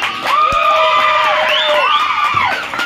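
A crowd at a Sai Baba devotional gathering cheers and whoops with shrill, sustained voices that carry steadily for the whole stretch; any clapping is lost in the shouting.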